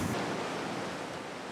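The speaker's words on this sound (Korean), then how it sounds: "이리 보면 또 이 파도가 굉장히 또 크게 또 오거든" Big sea waves breaking against the rocky coast of Ulleungdo island, a steady broadband wash of surf and spray close by, loud and continuous with no voices.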